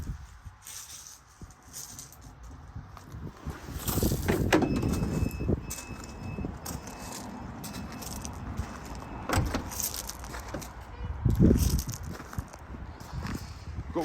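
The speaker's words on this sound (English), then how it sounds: "We have the automatic doors, both sides" A Volkswagen Transporter 2.0 BiTDI crew van's automatic sliding door runs along its track and thuds shut, with a clunk midway and another heavy thump near the end, close by with faint background noise.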